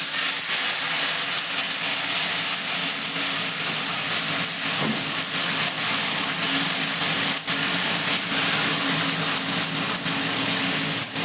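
Onion, garlic, ginger and dried chilli paste sizzles in a hot pan, a steady, close hiss and crackle that runs evenly throughout with no speech.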